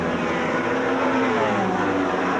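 Superbike motorcycles racing across the start-finish line in front of the grandstand at Sandown, a loud continuous engine roar with shifting pitch as the bikes pass close by.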